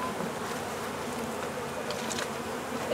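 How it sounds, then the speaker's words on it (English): Honey bees buzz steadily around a hive, a dense continuous drone holding at an even level for about three seconds with no voices. "We're working on the bees."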